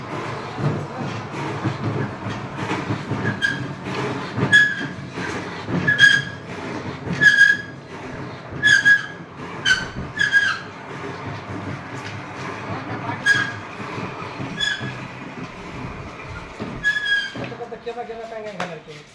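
Train passing through the small Uchchapuli railway station, a steady rumbling clatter of wheels with rhythmic clicks and squeaks, and someone speaking over it.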